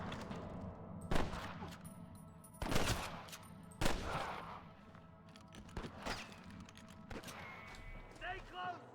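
Sniper gunfire in the video game Red Dead Redemption: several sharp, loud rifle cracks spaced a second or two apart, with game voices talking in between and a faint low rumble.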